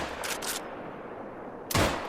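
Two sharp .44 lever-action rifle reports ring out at whitetail bucks outdoors, the first a pair of quick cracks and the second a louder single shot about a second and a half later.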